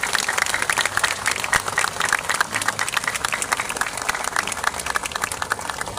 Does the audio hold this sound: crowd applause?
yes